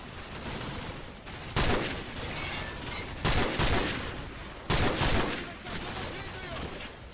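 A minigun fires in the Call of Duty 4 video game: sustained, loud rattling gunfire with three heavier bursts spaced about 1.5 seconds apart, densely layered and continuous throughout.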